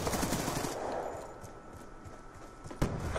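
Peacekeeper gun firing in a Call of Duty-style Kill Confirmed match, a quick run of rapid shots that fades, then a single sharp report near the end, with no talk over it.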